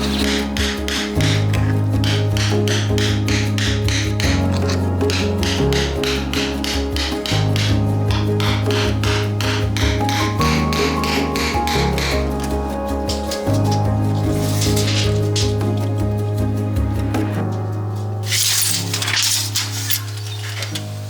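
Repeated rhythmic hammering and chipping breaks up an old sand and cement bed under a cottage window, loud and close, with a steady low machine hum droning throughout.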